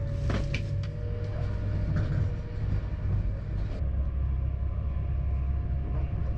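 An Avanti Pendolino train pulling out of London Euston gives a steady low rumble and rolling rail noise with a sustained hum, a few brief clanks early on, heard from on board and without speech.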